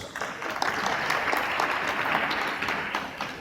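Conference attendees at a debate session applaud to welcome a speaker, an even, sustained wash of clapping from a room full of people, moderately loud with no talk over it.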